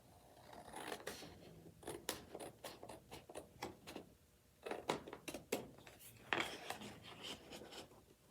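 Scissors snipping through paper to cut out a measured square, a quiet series of short crisp snips and rustles in uneven bursts with brief pauses, close up.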